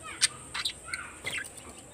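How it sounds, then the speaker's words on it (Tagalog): A pet lovebird gives short, bright chirps and tweets, several quick calls spaced across two seconds, close and fairly faint with no talking. "alaga pong ibon, lovebird."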